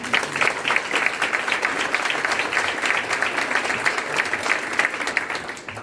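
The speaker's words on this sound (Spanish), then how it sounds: "Primero, un aplauso para ellas" An audience at a Women's Day panel event claps for the women being honoured, a full, steady patter of many hands held at an even level for almost six seconds before easing off.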